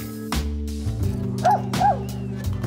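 A seeing eye dog gives a few short yips and whimpering barks indoors, close and fairly loud, with a brief human voice sound mixed in between.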